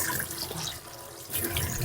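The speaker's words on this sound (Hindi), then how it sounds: "आंखें खोल के आंखें भी धो लेती।" Cold tap water splashes as someone washes their face and eyes in a chilly village quarters, a close, brief run of water splashes that dips slightly midway, then resumes.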